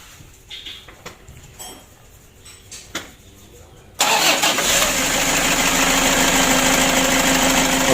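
Toyota Hilux engine cranks and fires after a quiet stretch of faint clicks and shuffling, then settles into a loud, steady idle that continues to the end.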